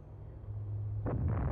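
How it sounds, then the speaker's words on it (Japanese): Shooting Yggdrasil in Xenogears sets off a big explosion: a deep, steady rumble swells, then breaks into loud, crackling bursts near the end. "ユグドラごと撃って大爆発"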